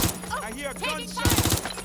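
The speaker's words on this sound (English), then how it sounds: "I'm getting shot at here." Gunfire in the Watch Dogs: Legion video game, a rapid burst of several sharp shots near the end while a voice talks over the action.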